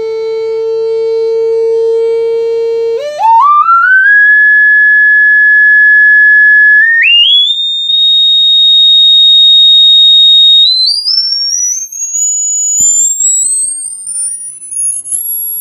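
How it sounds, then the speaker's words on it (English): A sine tone from an online tone generator plays through a 3-inch midrange woofer, rising in steps and glides from a low hum to a piercing high whistle. The tone is loud and steady, with slight wavering near the top. "So I'm gonna start from here and then go up to the high frequencies,"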